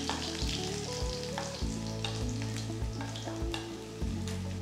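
Sliced shallots frying in oil until golden brown for a Kerala coconut fish curry, producing a loud continuous sizzle broken by a few sharp clatters from a stirring spoon, with no talking.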